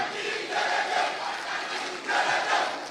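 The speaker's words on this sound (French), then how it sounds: "de vous lever comme un seul homme et de l'ovationner" A political rally crowd rises to cheer and ovate presidential candidate Amadou Ba at his party investiture, a roaring mass of voices in two swelling waves, loud and continuous.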